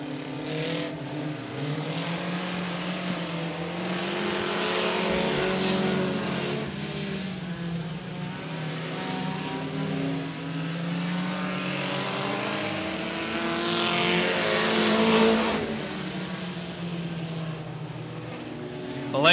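Race cars roar around 105 Speedway in Texas during a regular race program, engines droning and shifting pitch as they pass through the turns, swelling louder as cars approach, with an announcer talking over them.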